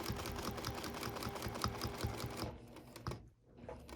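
A sewing machine stitches rapidly in free-motion quilting along a ruler, a fast steady mechanical rattle for about two and a half seconds, then slowing into a few isolated stitches and a brief pause.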